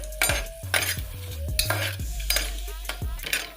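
Cardamom pods and bay leaves stirred in a hot pan for vegetable pulao, a series of sharp metal spoon scrapes and clinks against the pan over a light sizzle, close and clear.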